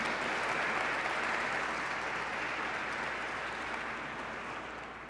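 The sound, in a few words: audience applauding the NDP candidate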